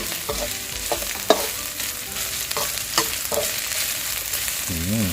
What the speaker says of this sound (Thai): คั่วให้ตัว พริกกระเทียมแล้วหอมนะครับ